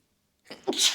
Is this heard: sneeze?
yes